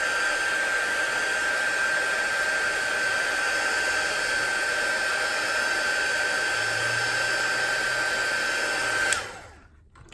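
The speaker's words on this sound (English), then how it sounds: "I'm just going to make sure it's dry just by using my heat tool really quickly." A heat tool blows a steady, loud whooshing stream of air while drying watercolour paint, holding an even roar with a faint high whine before cutting off abruptly near the end.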